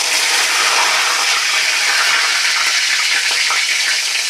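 Mustard seeds, cumin and curry leaves sizzle and crackle in hot oil for tomato chutney, a loud, dense, continuous frying hiss with fine popping close up.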